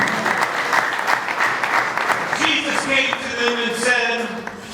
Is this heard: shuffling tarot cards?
no